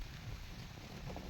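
Wind blowing outdoors at a fishing pond, a steady low rumbling buffet against the microphone that holds constant throughout with no voices.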